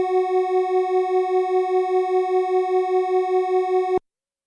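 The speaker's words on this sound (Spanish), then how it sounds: "vamos a escuchar las dos notas juntas." Two close electronic tones, G flat and F sharp in Pythagorean tuning, sounding together, producing a regular wavering beat that pulses evenly for about four seconds before cutting off.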